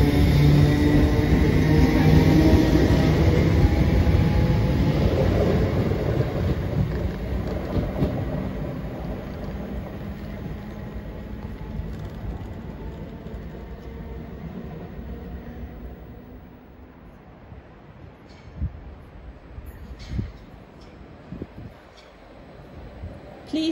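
A train near Stratford, London, rumbles along loudly, a steady roar with squeals and rattles that gradually eases into quieter clanks and knocks.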